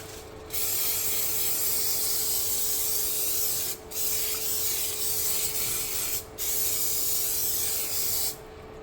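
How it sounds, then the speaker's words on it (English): Non-stick cooking spray hisses into a baking dish in three steady bursts separated by brief pauses, close and fairly quiet with no talking. "I'm gonna put some non-stick spray at the bottom of it."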